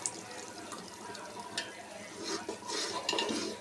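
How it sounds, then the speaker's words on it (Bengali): Soaked lentils poured into a pot of cooked meat for haleem, then stirred: wet, sloshing scrapes and splashes over a soft bubbling background, growing busier toward the end, no talking. "তো আমি এখন ডালটা ঢেলে দিচ্ছি।"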